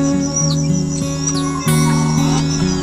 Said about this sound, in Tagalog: ibon yun.